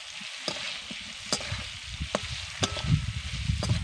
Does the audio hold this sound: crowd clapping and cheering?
no